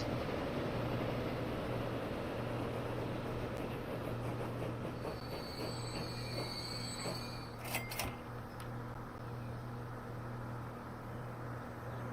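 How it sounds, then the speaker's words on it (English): A passenger train in a transport video game rumbles steadily past with a low hum and a brief metallic squeal of wheels partway through; no voices. "That's a passenger train."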